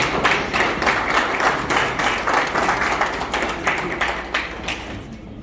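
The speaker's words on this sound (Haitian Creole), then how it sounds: "sous vos applaudissements, s'il vous plaît." Steady applause from an audience at an honouring ceremony for a union's tenth anniversary celebration, many hands clapping in a dense, continuous wash that fades slightly toward the end.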